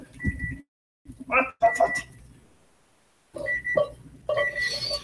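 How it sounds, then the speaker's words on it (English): Kitchen timer beeping in a home kitchen during pasta cooking, with short high tonal beeps repeating at the start and again near the end, mixed with someone talking and kitchen clatter. "All right, I guess I gotta turn the timer off."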